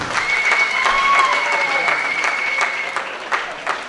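At a community gathering, a crowd breaks into steady applause that fills the room for several seconds, with a voice briefly audible over it.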